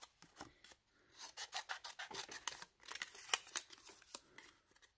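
Scissors snip a paper ant head out from a cut sheet, a close series of short crisp rustling snips and paper scrapes in irregular bursts.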